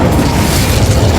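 Incendio fire spell blast from Hogwarts Legacy, a dense, loud booming roar of flame filling the whole short moment without letup, no voices over it.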